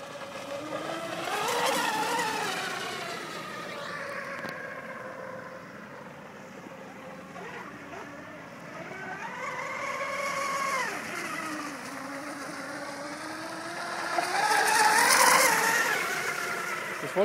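An RC boat, a Bandit M Leopard 4082 on 5S with a 44 prop, runs at full throttle on the Main river by a weir: a steady, whining motor drone that rises and falls in pitch as it passes, with wind noise over the microphone.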